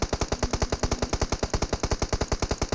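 Rapid automatic gunfire in the video game PUBG Mobile comes as an unbroken burst of evenly spaced shots, loud and close, with no talk over it.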